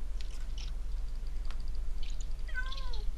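A cat meows in the German-language Minecraft game, a short rising and falling call near the end over a steady low hum, with a few faint clicks and game sounds earlier.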